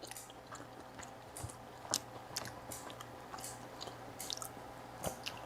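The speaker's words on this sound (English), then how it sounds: "I'm sure you can hear me chewing" Someone chews a bite of medium steak cooked sous vide, with quiet, irregular moist bites and soft squishes close to the microphone over a low steady hum.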